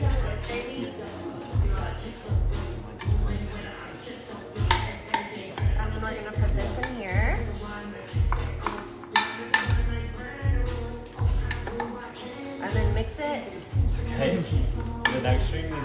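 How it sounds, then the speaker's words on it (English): A spoon stirs homemade stuffing in a pot, giving repeated scraping, clinking strokes in an uneven rhythm that continues throughout, close by and moderately loud, with people talking over it. "Okay, you stir that up."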